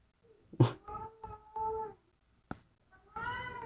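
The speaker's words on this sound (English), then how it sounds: "they yells at the cat every time cat makes noises" A house cat meows several times in a row, close and fairly quiet, with short gaps between the cries and a longer, drawn-out meow at the end.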